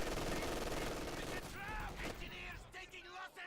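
Machine gun fire from an online multiplayer video game match sounds as rapid continuous bursts in the first half, then fades into scattered shots, with a commentator's voice audible over the gameplay.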